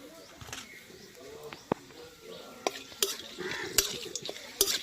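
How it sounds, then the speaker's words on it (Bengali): Bay leaf and whole garam masala frying in oil in a wok, with a soft sizzle beneath sharp metallic clinks and scrapes of stirring, plus a few faint bird calls in the background. "একটু নেড়ে চেড়ে ভেজে নিয়ে"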